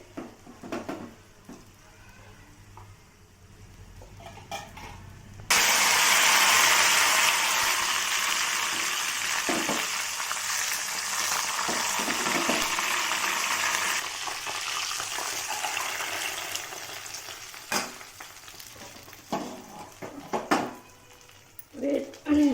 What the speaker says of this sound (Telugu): పోపు రెడీ చేసుకుంటున్నామండి చారు తాలింపులోకి.